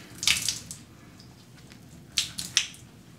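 Water is squeezed and wrung from a hand-washed merino wool shirt. It comes as soft wet squishes and drips in two quiet bursts separated by a pause, heard close up.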